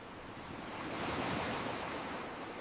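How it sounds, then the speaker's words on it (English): Ocean surf breaking against rocky shores and bluffs, a broad continuous wash of roaring water that swells slightly and holds steady for a few seconds with no voices. "curling waves sparkling in the sun and crashing against the rocky shores and ocean bluffs"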